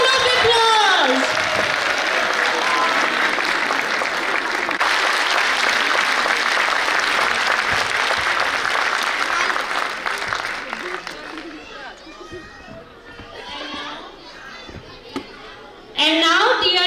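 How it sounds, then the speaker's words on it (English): Loud, sustained audience applause fills a school annual function at Kidforte play school, with children's voices mixed in, then fading into scattered chatter before a sharp return of noise at the end. "Give a big round of applause."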